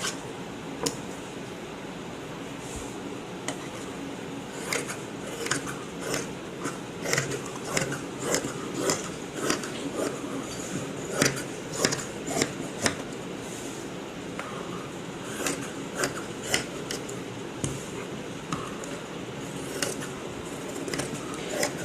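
Fabric scissors cut out the front piece of a lined blouse, giving repeated crisp snips at an irregular pace, close by and fairly quiet over a faint room hum, with no talking.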